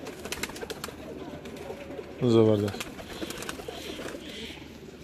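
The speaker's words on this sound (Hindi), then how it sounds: "जी ये गोल्डन कबूतर है" A golden pigeon gives one short, fairly close coo midway through, standing out briefly above soft background noise while a person talks nearby.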